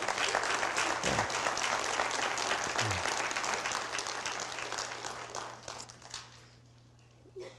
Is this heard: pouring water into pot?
no